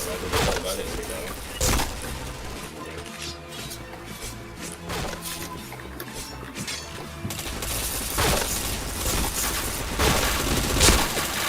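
P90 submachine gun fire in the online shooter Point Blank, heard as repeated sharp bursts and single cracks scattered over a busy game soundscape, with some background voices.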